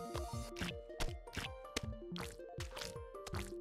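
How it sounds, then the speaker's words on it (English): Squelchy, wet fart-like noises from the video game Super Meat Boy, about six short bursts in a steady rhythm over game music, loud and close. "I give you the fart noises"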